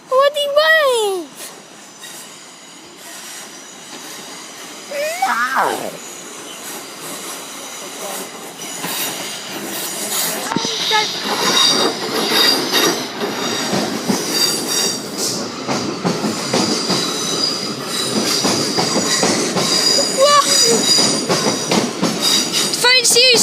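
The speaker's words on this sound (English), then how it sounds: "Oh wait, it's blue train." A train rolls past the Poole level crossing, with wheels squealing and clattering loudly along the rails. It builds from the middle to the end, while people talk over it and a whistle-like squeal sounds early on.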